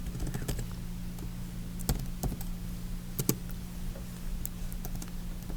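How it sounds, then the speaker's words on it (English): Keys clatter on a computer keyboard in slow, uneven bursts of tapping, typed one-handed while setting up a scan folder on a Ricoh printer, with a low steady hum beneath. "I'm typing one-handed, so it's a little slow."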